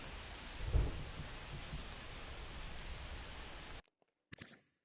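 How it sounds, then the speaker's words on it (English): Steady rain in a baseball video game, a broad hiss of downpour with a low thunder rumble early on, cutting off abruptly near the end before a brief burst returns. "Although it's raining."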